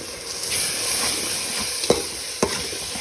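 Chopped vegetables and tomato masala for a vegetable biryani fry and get stirred in a pan, giving a steady close sizzle with a few sharp spoon scrapes and knocks.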